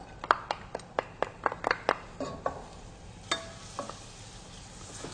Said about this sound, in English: in the olive oil, you want to sauté your onions.